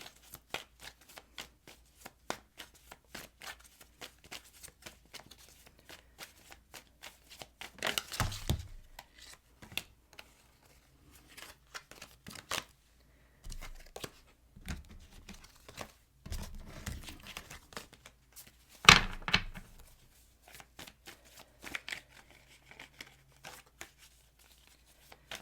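A tarot deck is shuffled by hand in quiet, intermittent bursts of riffling and slapping card sounds, with a few louder flurries and no speech.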